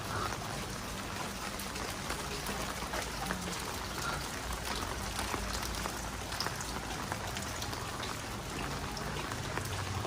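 Steady rain pattering on surfaces in Panaji, Goa, a dense continuous hiss with scattered drops, constant throughout without any talking.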